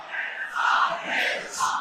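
A crowd at a religious gathering chants a slogan response in unison, swelling in loud rhythmic waves, with a near voice leading the call.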